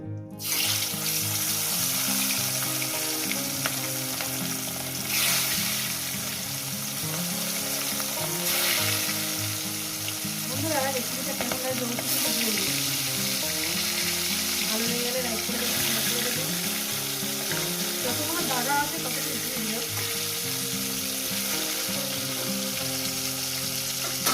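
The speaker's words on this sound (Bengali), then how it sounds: "তেলটা আমার গরম হয়ে গেছে দিয়ে দেবো একটু লবণ মাছগুলো এক এক করে দিয়ে দেবো" Bhangan fish pieces frying in hot oil in a pan, a loud, continuous bubbling sizzle with crackling pops throughout, close and without talk.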